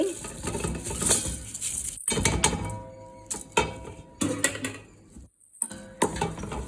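Bhuna khichuri being stirred in a cooking pot, with uneven scraping and clinking strokes in irregular bursts, some brief pauses between them, moderately close and without talk.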